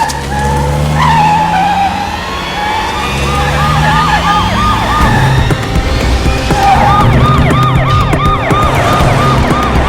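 A police car siren wails in rapid repeating whoops over a loud engine and road rumble, the rising-falling cycles cutting in and out through a tense action scene.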